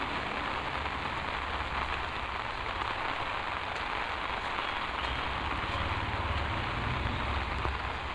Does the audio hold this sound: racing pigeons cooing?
no